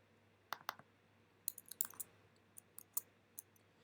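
Mouse buttons double-click in quick pairs over anchor points, several sharp close clicks spaced irregularly across a quiet room, with no talking.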